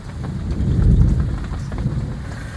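Heavy rain pours steadily with a deep rumble of thunder swelling and fading beneath it, loud and close, no voices.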